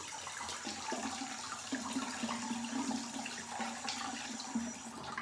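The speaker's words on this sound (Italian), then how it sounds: "aspetto che arrivi un po' d'acqua calda," Hot water running from a bathroom tap into a sink, a steady close splashing flow that continues unbroken with no talk.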